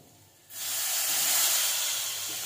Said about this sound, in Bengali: দিয়ে দেবো টমেটো কুচি।